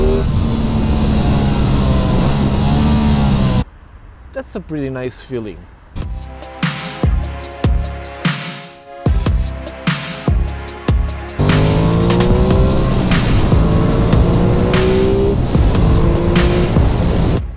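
Aprilia Tuono 660 parallel-twin naked bike revving hard and loud through the gears, engine climbing high in the revs with sharp gear changes and brief lulls, a rider speaking briefly over it.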